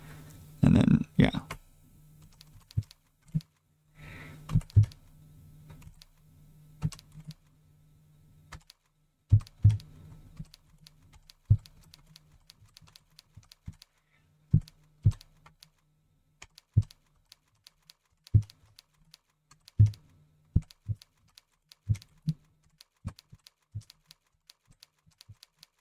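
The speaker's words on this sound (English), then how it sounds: "I'm gonna get back to typing now." Irregular keystrokes on a computer keyboard, single clicks and short quick bursts separated by pauses, close and crisp over a faint low hum, with a voice talking briefly near the start.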